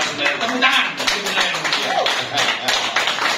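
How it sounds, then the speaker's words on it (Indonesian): Audience clapping at a wayang golek puppet performance, a dense, steady patter of many hands that runs throughout at moderate loudness, mixed with some murmuring voices. "Tepuk tangan."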